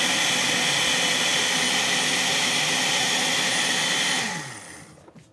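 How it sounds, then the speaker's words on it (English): A kitchen blender whirs loudly and steadily, blending salsa with garlic and cumin, then winds down and stops near the end. "Vamos a ponerla en la licuadora y licuarla nuevamente. Put it in the blender again."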